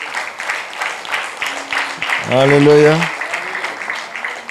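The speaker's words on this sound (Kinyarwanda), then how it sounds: "Amashyi menshi ku mwami Yesu" Church congregation applauding in praise of Jesus, a dense patter of clapping running under a voice, which rises into a loud sung exclamation midway.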